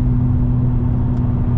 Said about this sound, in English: it is a race car. It is gonna make race car noises